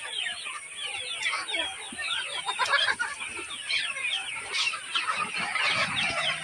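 Sonali chickens on a poultry farm cluck and chatter continuously, many birds close together in a busy, layered flock sound with no talk over it.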